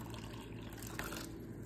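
Hot water pours for Jell-O, a short steady splashing stream that runs without a break and has no talk over it.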